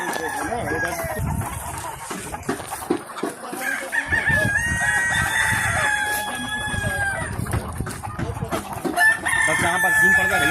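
Roosters crow repeatedly at a poultry farm in Kanpur, loud drawn-out calls rising above a busy background of clucking fowl, with people talking nearby.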